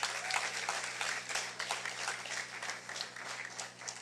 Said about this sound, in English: Give Bank of Nevis a round of applause.